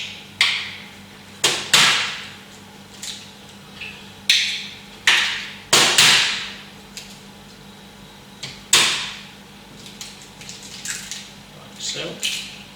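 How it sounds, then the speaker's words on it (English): Three eggs are cracked one by one onto a tray, giving a series of sharp, close taps and cracks with short pauses between them. "I've got 3 eggs, which first of all I'm just going to break onto a tray."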